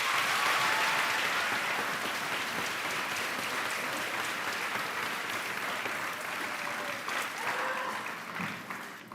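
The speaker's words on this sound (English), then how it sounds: "Let's give all these folks a big round of applause." An audience at a college nurses pinning and candle lighting ceremony gives sustained applause, a dense, steady wash of clapping that holds for several seconds before tapering off.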